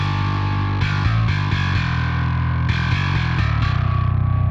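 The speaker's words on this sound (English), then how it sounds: "A lot of people would listen to this bass soloed and think it sounds great." A distorted bass guitar playing alone, thick and gritty, with sustained low notes that shift pitch every second or so and no other instruments or voices.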